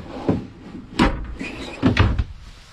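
Storage drawers or cabinet doors inside a lightweight travel-trailer camper being opened and shut, three distinct close wooden thumps and knocks spaced about a second apart.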